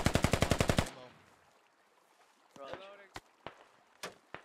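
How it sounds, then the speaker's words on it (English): RPK machine gun in a video game firing a rapid burst of about ten loud, close shots, then a quiet gap, voices, and a few scattered single shots. "And RPK rounds going out."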